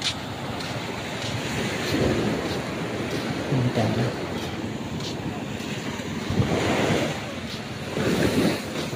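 Sea waves roll and wash onto a shore after rain, with steady wind buffeting the microphone and a few louder surges of surf rising over the constant roar.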